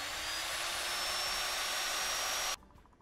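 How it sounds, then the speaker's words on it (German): A power sander runs loud and close as a steady, broadband whir during repair work on a rail draisine in freezing cold, then cuts off abruptly near the end, leaving faint background noise. "Wir nehmen mal die Schleifmaschine hier."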